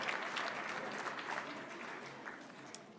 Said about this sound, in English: Take a stand, take your applause.